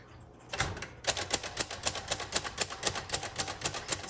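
Typing on a 1956 Royal Quiet Deluxe manual typewriter in green crinkle finish: a near, steady run of crisp key strikes, about three or four per second, after a brief quiet start, with no talking.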